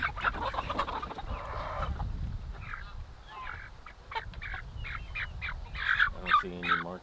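Young American Bresse chickens, hens ten to thirteen weeks old, cluck and call in repeated short bursts close by, several birds overlapping over a low background rumble.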